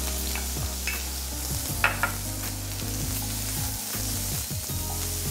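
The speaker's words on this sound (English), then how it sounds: "And then you add your onions." Onions added to olive oil and minced garlic in a hot pan, giving a soft continuous sizzle with a few brief clinks and stirring sounds, fairly quiet, no speech.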